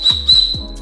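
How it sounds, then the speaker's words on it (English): A camping whistle, part of a motorcycle camping kit on a cliff in Prince Edward Island, is blown. It gives a shrill, steady high tone with a few brief pulses, lasting under a second, close and clear. "Got a whistle."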